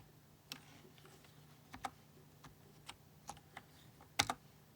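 Quiet, scattered keystrokes on a computer keyboard during Linux command-line practice, isolated clicks with a brief flurry near the end, no talking.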